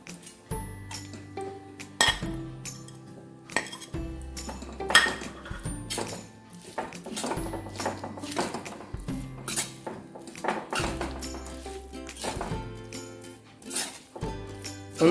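Coconut being stirred into jackfruit and lentil dal thoran in a pan, with repeated spoon scrapes and metal clinks against the pan in irregular bursts, close and moderately loud, no talking.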